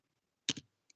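A single close keyboard keystroke, a sharp double click of a key pressed and released, followed by a faint tiny tick, otherwise quiet.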